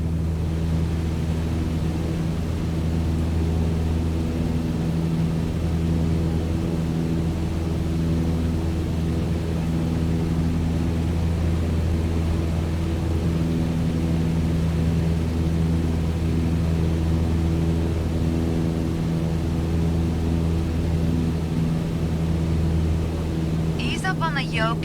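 Propeller airplane engine in Microsoft Flight Simulator 2020, throttled back to about 2,300 RPM during cruise, droning steadily and loudly with a constant hum throughout, ending with a short crackle.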